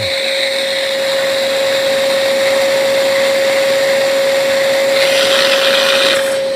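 A Bissell Little Green Mini cordless carpet cleaner runs steadily with its hose tool attached, giving a loud, close motor whine with a constant high tone and no talking.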